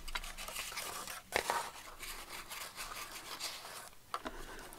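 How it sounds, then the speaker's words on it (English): Fabric being burnished flat by hand to help it stick while making a concertina book, a close, soft continuous rubbing and scraping with a few sharper strokes. "Let's give that a bit of a burnish just to help it stick."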